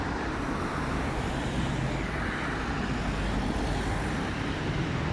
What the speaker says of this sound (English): Oh, that's a fast car.